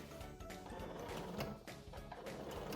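A sewing machine slowly stitches a fabric bow, its needle clattering in quick uneven mechanical bursts with brief hesitations, close and fairly quiet.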